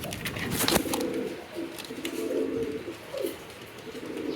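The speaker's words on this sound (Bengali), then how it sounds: "এখানে একজোড়া গ্রিজেল কবুতর, খুবই সুন্দর" A pair of grizzle pigeons, a male and female, coo in soft repeated low phrases close by, with a sharp flutter or tap early on and no talking.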